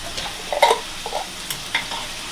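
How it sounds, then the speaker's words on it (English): Diced onions hit a pan of hot oil with a few short, bright sizzling bursts, the strongest early on and a couple of smaller hisses after, close and fairly quiet with no voices. "I'm going to drop in a nice handful of our diced onions"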